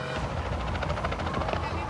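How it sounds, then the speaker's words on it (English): Helicopter lifting off during an elephant relocation in the African bush, a throbbing rotor beat with rhythmic blade chop, moderately loud with some wind buffeting on the microphone. "Chopper's gone up again, leaving Josh on the ground."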